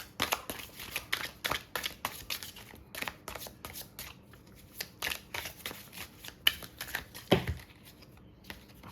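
Tarot cards being shuffled by hand during a Hindi pick-a-pile reading, a close, steady run of papery riffles and flicks with a louder snap near the end, no voices.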